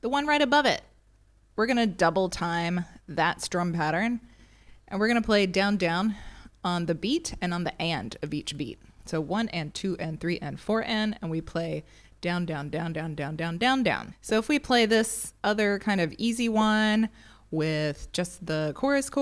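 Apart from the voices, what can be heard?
No everyday noise stands out behind the speech.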